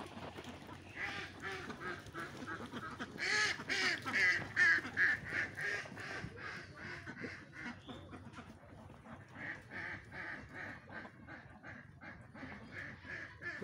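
Ducks on a duck farm, quacking and honking in a busy, overlapping chorus that swells loudly in the middle, then continues steadily at moderate level close by.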